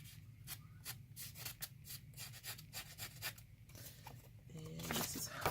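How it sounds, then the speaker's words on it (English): Rapid rhythmic scraping strokes as the back of scissors roughs up card edges up close, quiet and steady, with a brief voice near the end. "roughing up the edges a little bit."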